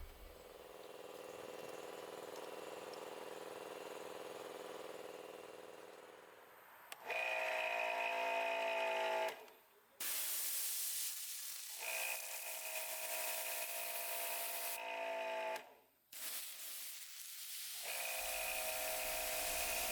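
The small engine of a Bauer 2300 PSI gas pressure washer runs loudly in several bursts, revving and cutting out between stretches, with a steady droning whine and brief pauses.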